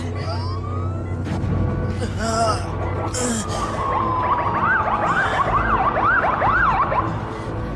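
A wailing ambulance siren sweeps up and down repeatedly beneath agitated voices and a gasp, loud and close with the rising-falling whoops clearest toward the end.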